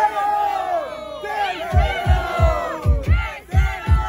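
A crowd roars and yells with rhythmic heavy thumps at a Brazilian rap battle semi-final, a loud, dense, continuous cheer building across the clip.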